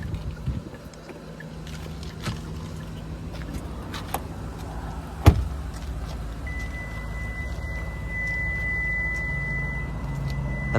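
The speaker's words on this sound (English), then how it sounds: "the sound you just heard was the car letting you know that the key has left proximity of the vehicle while the engine is still running" A 2020 Genesis G90 sounds a steady electronic warning tone because the key has left the car's proximity while the engine runs. The tone starts partway through and holds under a low idle hum, with a few faint clicks.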